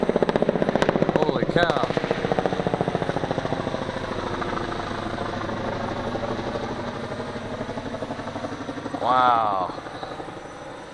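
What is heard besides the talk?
helicopter flying low overhead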